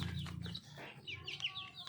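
Chickens on a small backyard farm cluck in short, close bursts while being fed, mixed with a few higher chirps and squawks, and no voices.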